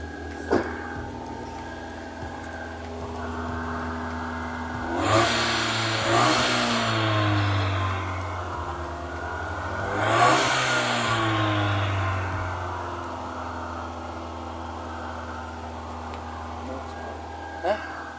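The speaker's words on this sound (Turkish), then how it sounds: "Şimdi arabamıza ara gaz verelim." A Hyundai Accent 1.3 LS engine idles steadily, then revs up twice in strong surges that rise and fall back to a low rumble, close by.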